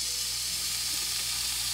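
Hot oil sizzles in a pan heating for pepper steak, a steady, fairly quiet hiss with no talk over it.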